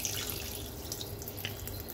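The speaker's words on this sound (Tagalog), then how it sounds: "habang pinapaawas natin yung ating gripo." Water runs steadily from a kitchen faucet while salmon scraps are cleaned, a soft continuous hiss and splash with no talk.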